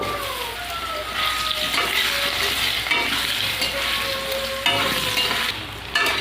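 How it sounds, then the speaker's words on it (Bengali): Potatoes frying in hot oil in a pan for a Bengali fish curry, a steady crackling sizzle that holds across the whole stretch with occasional louder spits and scrapes, close by and with no talk. "এবার আলুগুলো ভেজে নেব"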